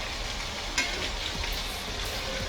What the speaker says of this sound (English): Those onions are sauteing.